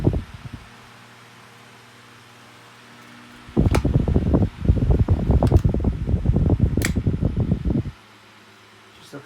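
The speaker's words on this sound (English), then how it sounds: "I think, yeah, it's definitely Chinese made fan." A late-1990s Chinese-made electric fan, heard first as a faint hum before a louder burst of fluttering, rattling blade noise that runs for about four seconds and then drops back to the low hum.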